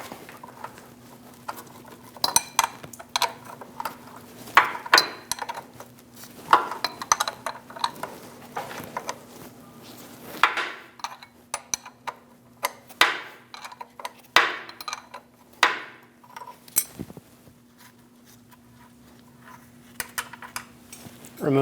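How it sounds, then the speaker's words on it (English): Metal wrenches clank and ratchet against a nut and stud while working corrosion loose on the shifter lever of a 2001-2006 Chevrolet Silverado 2500 HD, giving sharp irregular taps and scrapes at close range over a steady low hum. "We're going to use a 15mm wrench to break the nut free."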